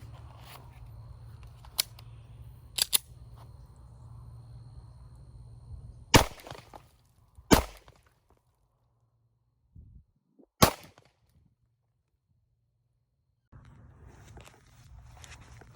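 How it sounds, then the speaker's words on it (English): A Sig P365 XL pistol fires a handful of sharp, widely spaced shots at an outdoor range, each crack loud and abrupt against a faint breezy background, with long silent gaps between them. "So you can see that the shots were pretty true, at least the first few shots"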